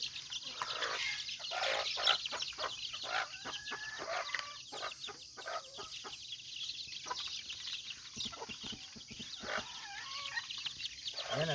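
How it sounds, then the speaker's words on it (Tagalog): Bantam-labuyo cross cockerels feeding in the morning, giving busy pecking taps and soft clucks, with fowl calls and crowing around them, moderately close against outdoor background. "Ayan, natatakaw nilang kumain mga kanter."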